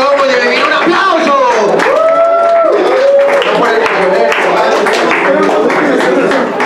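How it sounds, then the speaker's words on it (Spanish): A crowd at a rap battle claps and cheers throughout, with whoops rising around a host who shouts over the noise close to the mic. "Un aplauso para estos dos cabronzotes, banda."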